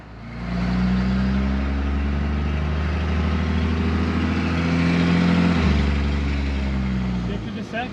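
A Cummins-swapped Chevrolet C30 truck drives off, its diesel engine droning loud and close as it pulls through the gears, with a brief dip in pitch at a shift partway through.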